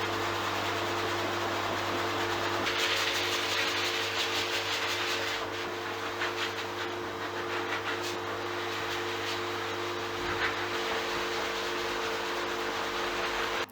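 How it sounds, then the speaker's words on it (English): Gentle hot air from a dog grooming dryer blows on a short-clipped Cocker Spaniel's head and ears with the nozzle off, giving a steady, close, even broadband whoosh that runs the whole time with a constant low hum beneath. "It's just a bit of gentle hot air on their head and ears."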